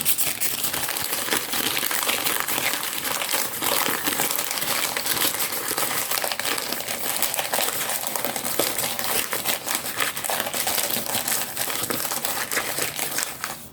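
Paper is crumpled and rubbed close to the microphone as a fast, aggressive ASMR trigger, a dense continuous crinkling and crushing texture that holds steady for about fourteen seconds with no talking.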